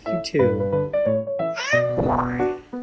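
A house cat gives a run of close, loud meows, several drawn-out calls in quick succession, some rising and wavering, alone without other noise.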